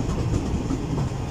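The Karakoram Express rolls slowly through Khanpur Junction station at night, a continuous low rumble of wheels and carriages heard from on board, with no voices.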